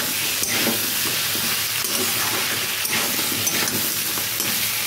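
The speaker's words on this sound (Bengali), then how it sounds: "এইভাবে আমি ভালো করে ভাজতে থাকবো এখন বেশ কিছু সময় ধরে" Tomatoes, green chilies and ginger-garlic paste fry for a spicy crab curry, giving a steady, close sizzle with soft scraping and stirring over a constant hiss throughout.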